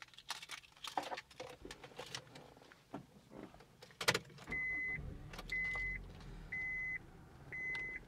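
A 2004 Honda Civic LX with a 5-speed manual transmission and 167,000 miles has its key turned, bringing a series of clicks and a quick crank, then the engine settles into a low, steady idle while a chime beeps at regular intervals.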